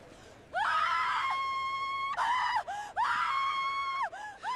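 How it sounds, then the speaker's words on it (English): A loud, sustained high-pitched scream, repeated in long shrill wails with short breaks, piercing and close. "a scream cuts through the noise, sharper than glass, rawer than fire."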